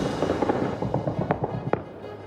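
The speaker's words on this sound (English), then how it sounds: "The Taliban celebrate with gunfire and fireworks" Celebratory gunfire and fireworks as the Taliban mark the last U.S. military flight leaving Kabul: a dense crackle of small bursts with a few sharper reports standing out, continuous over a steady background rumble.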